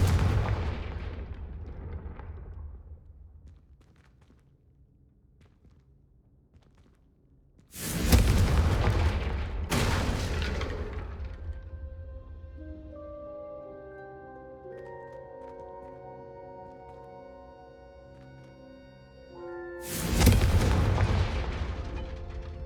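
Confringo blasting spell explosions in Hogwarts Legacy: two loud booming blasts with rumbling tails, separated by a sustained musical chime that rises and lingers, then a third heavy explosion at the end.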